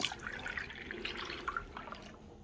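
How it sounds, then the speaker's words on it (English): Milk pours steadily into a microwave-safe bowl, a soft continuous splashing and trickling that runs for a couple of seconds with no talking. "Pour that into a microwave safe bowl."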